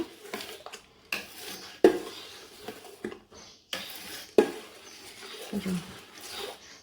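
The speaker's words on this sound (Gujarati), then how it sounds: "હવે બધાને આપણે હલાવી દઈશું સરસ મજાનું." Sabudana and potato papad mixture being stirred in a metal pot, with irregular scraping and clanking of a spoon against the pot, a few sharper knocks, close and moderately loud.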